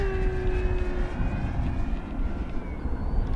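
An E-flite V1200 RC electric jet flying over a paved runway at about half throttle: a steady whine from its fan, with tones sliding downward as it passes, over continuous low rumble and wind noise.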